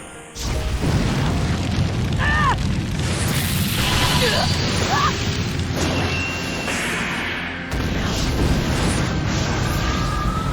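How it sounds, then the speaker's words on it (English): A Fire Style Fireball Jutsu from a Naruto fighting game bursts in a deep roaring boom, then a sustained fiery rumble with whooshes and crackles while voices shout over it. "Fire style! Fireball jutsu!"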